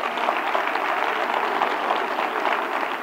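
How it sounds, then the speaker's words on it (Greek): Steady applause from a large audience at a Global Dream event, a dense, even roar of many hands clapping at once that stays loud and unbroken throughout. "ένα χειροκρότημα για τους δημιουργικούς που έχουμε"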